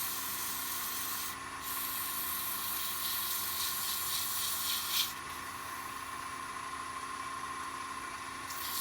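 A wooden acorn being sanded through 120, 180 and 220 grit sandpaper, likely on a lathe, a continuous hissing rub over a steady motor hum, close and even, with brief breaks and no talk.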